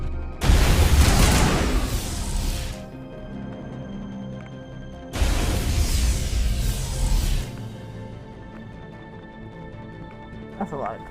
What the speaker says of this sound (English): That's a lot of random grenades.